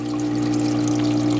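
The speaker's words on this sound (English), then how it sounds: "that is the protein skimmer right there." Reef tank protein skimmer pump running with a steady mechanical hum under close trickling, bubbling water, continuous and fairly loud with no voices.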